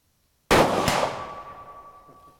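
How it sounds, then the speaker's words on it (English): A 6.5 Creedmoor Tikka T3X TAC A1 rifle fires and the bullet strikes a steel target, giving a sudden loud report followed by a sharp metallic clang with a lingering ringing tone that slowly fades. "I'm hitting the metal target."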